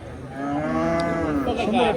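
A cow at a busy cattle market lets out a single long, loud moo close by, with market murmur faintly beneath it.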